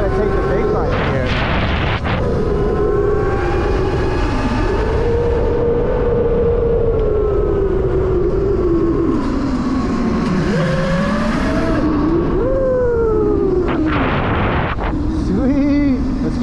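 Razor MX650 electric dirt bike riding over rough ground, its motor whine rising and falling in pitch under steady wind buffeting, with loud close bumps and thumps from the terrain and people talking over it.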